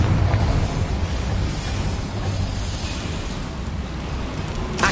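Fiery spell blast from the Confringo spell in Hogwarts Legacy, a dense, sustained roaring rush of fire and debris that stays loud and broad for several seconds with no voices over it.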